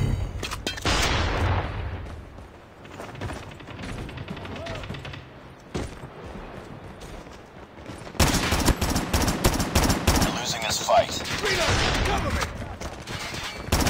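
Gunfire in a battle royale video game: scattered single shots, then dense rapid bursts in the second half, loud and close, with a voice talking over parts of it.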